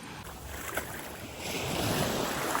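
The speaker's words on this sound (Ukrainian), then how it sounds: "Гляньте, як красиво. Вечірне море." Evening sea waves washing onto a beach, a soft continuous surf wash with wind buffeting the microphone, growing slightly louder toward the end.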